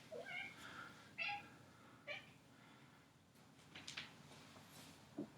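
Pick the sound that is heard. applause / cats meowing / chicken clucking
cats meowing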